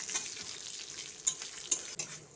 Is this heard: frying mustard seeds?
yes